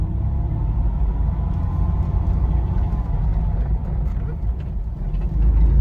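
A 4WD vehicle with a mechanical transfer-case actuator drives in first gear with the transfer case in 4 low, its engine a steady, close, low rumble holding throughout with no talk.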